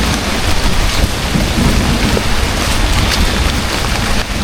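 Steady heavy rain falls outdoors, a dense continuous hiss and patter that stays loud and even throughout.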